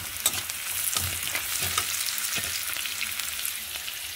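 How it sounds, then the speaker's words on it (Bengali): Onions frying in a pan while being stirred, a steady close sizzle broken by a few scraping stir strokes, with no talking. "পেঁয়াজটা লাল লাল হয়ে আসা পর্যন্ত নেড়ে ছেড়ে নেব।"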